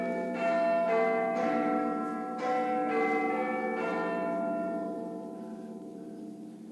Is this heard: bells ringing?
yes